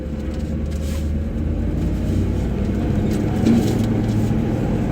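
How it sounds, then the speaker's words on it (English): A 1964 Ford F100 pickup on worn tires running under its own power for the first time in 25 years, a steady low engine rumble held close and loud with no talk. "First time in 25 years this truck's moved on its own power."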